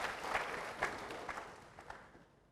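A church congregation claps for God during a sermon: scattered, fairly faint applause with a few sharper claps standing out, fading toward the end.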